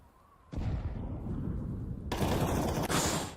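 A loud, sustained burst of gunfire from CS:GO at a pro match between FURIA and NAVI, with rapid overlapping shots that surge suddenly and intensify midway, heard alone without talk.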